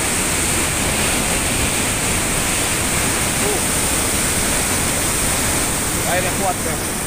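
Strong water rushes from a dam outlet into the Selabung River at Banding Agung, a loud and constant roar like a waterfall that fills the whole scene.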